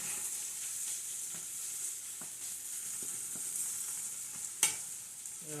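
Beef and onions stir-fry in a pan with a steady broadband sizzle, while a utensil scrapes and taps against the pan every second or so. One louder clack stands out near the end. Nobody speaks.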